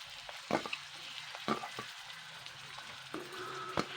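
Chopped onion and garlic paste added to a pan after dried red chillies sizzle softly while a spoon stirs, with several sharp scraping knocks against the pan at irregular intervals.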